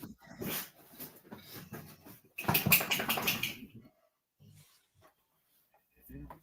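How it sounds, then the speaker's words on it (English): A dog shakes itself to get rid of fleas, a rapid, rustling flapping burst in the middle of the sequence, surrounded by talk and other indistinct bursts of noise. "that was the dog. That was him shaking his fleas."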